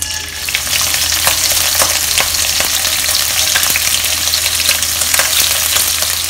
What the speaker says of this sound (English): I've rinsed the prawns and I'm going to put them into the frying pan now.